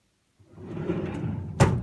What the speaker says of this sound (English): Then my last drawer is my filing cabinet.